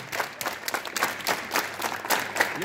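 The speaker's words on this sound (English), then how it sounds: "you have to make your palms straight then you can clap" A group of students at a school assembly clapping hands in a quick, somewhat ragged rhythm of sharp claps, steady and close-sounding throughout.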